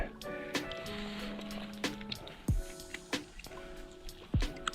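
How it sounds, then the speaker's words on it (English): Wet squishing and dripping as a trout is gutted at a mountain lake, eggs pushed out by thumb, with scattered sharp clicks and soft liquid squelches close by, no talk. "I'm just taking the guts and taking the head off"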